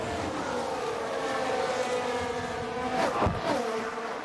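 Race cars thudding over kerbs at the Austrian track in F1 Manager 2022, a steady engine drone with a sharp low thump and rising whine near the end, close and loud.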